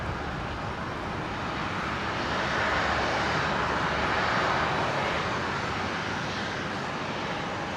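A Qatar Airways Boeing 777 on final approach gives a steady broadband jet roar that swells slightly in the middle, heard from a distance and alone.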